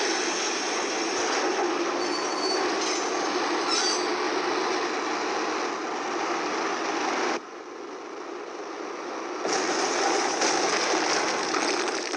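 A video game train in Max Payne rumbles past loudly and steadily with rail noise and faint squeals, then drops briefly quieter before swelling again toward the end.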